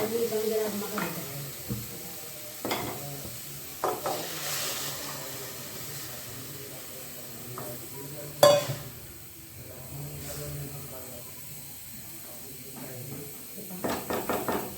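Kidney beans go into a cooked masala in a pan, with soft sizzling, a sharp clatter and intermittent stirring scrapes under a woman's speech.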